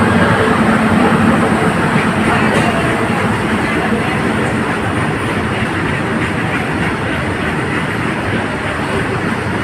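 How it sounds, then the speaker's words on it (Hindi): A WAG 9 electric locomotive from the Itarsi shed hauls a train at Prayagraj Chheoki Junction station, making a loud, steady, close rumble with a faint clatter of wagons that lasts the whole stretch without pause. "इटारसी का WAG 9 SC 33189"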